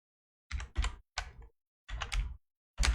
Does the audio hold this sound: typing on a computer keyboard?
yes